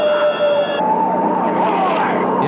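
A wailing siren sweeps up and down in pitch, fairly close, with vehicle engine noise underneath and no talking.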